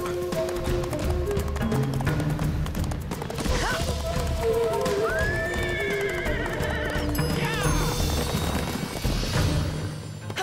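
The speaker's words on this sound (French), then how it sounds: "Mais d'où viennent ces hennissements?" A herd of horses in a cartoon whinnies repeatedly over a busy clatter of galloping hooves, several shrill neighs rising above the running rhythm throughout, with light music or effects mixed in.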